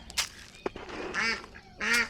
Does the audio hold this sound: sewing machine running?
no